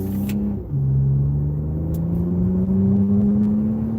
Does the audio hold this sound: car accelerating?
yes